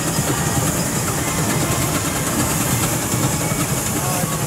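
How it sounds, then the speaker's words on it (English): An early Aveling and Porter steam traction engine, maker's number 17071, runs in the arena parade at the Rempstone Steam and Country Show. It makes a loud, dense, continuous mechanical roar close by, with a voice speaking over it. "Avelin and Porter traction engine, one of the earliest ones"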